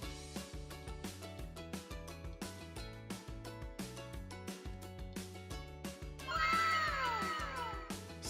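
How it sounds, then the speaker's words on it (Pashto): A cat meows near the end, its call rising over a bouncy, steadily looping children's tune that plays throughout. "پیشو"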